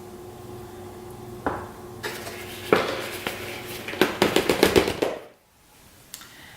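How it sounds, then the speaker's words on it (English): Grated cabbage core is tipped into a bowl, giving a burst of sharp, rapid clatters and scrapes against the bowl, close and loud, then stopping abruptly. "we are going to put that in a bowl"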